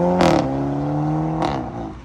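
A BMW 320 with a dual exhaust, rear diffuser and exhaust butterfly valves that do not fully close idles with a steady, tonal hum, broken by two brief airy surges like a slight leak, with no talk.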